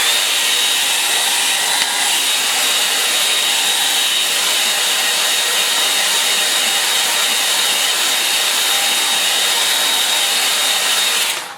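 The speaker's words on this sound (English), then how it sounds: "I'm going to give that a bit of a help with the hairdryer" A hair dryer blows on wet paint, a loud, steady whooshing roar that runs unbroken and alone from start to finish.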